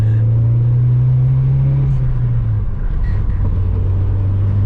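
A Nissan 240SX pulls away once it finds the gear, its engine a loud low drone rising in pitch and then settling back, heard from close inside with no talking.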